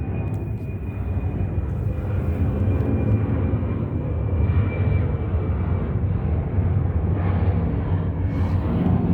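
An airplane flies overhead at night above a senior apartment complex, a steady loud engine drone with a low rumble that holds evenly throughout.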